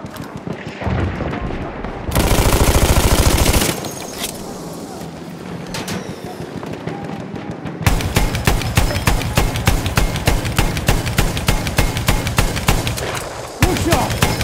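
Gunfire in a World War One video game crackles in dense bursts, first a loud volley, then scattered shots, then a long run of rapid, evenly spaced cracks that ends with one last burst.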